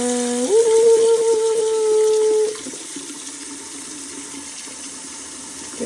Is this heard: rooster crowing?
no